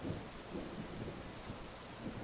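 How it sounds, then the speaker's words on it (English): Steady rain hisses through a thunderstorm recording, with low rumbling thunder rolling underneath, constant and even throughout. "No, we're listening to a thunderstorm. It's sunshiny outside, but I fancy listening to some rain."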